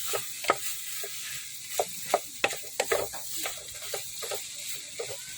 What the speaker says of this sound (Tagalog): Igigisa muna natin siya.